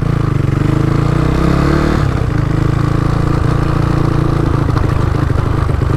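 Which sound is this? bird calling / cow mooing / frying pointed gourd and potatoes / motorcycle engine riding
motorcycle engine riding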